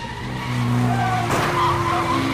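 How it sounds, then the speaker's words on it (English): Loud tire screech from a car skidding in an action-movie car chase, a sustained squeal with engine roar that swells and sweeps sharply around the middle, close and alone without talk. "turns on the engine, and a car chase begins"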